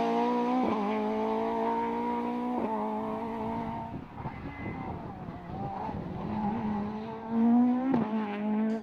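A 2.5-litre Ford Escort rally car at full effort on a Circuit of Ireland Rally stage, its engine screaming through rising revs with gear changes, tyre scrabble and a loud surge near the end.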